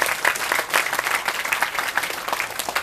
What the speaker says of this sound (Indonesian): Sekali lagi tepuk tangan simpati dan cinta.